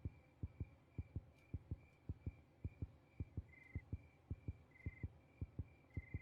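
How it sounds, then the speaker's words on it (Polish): A heartbeat in the horror video game Granny 3 thuds in a steady, quick rhythm, with a faint electronic tone pulsing between the beats. "Czemu serce bije?"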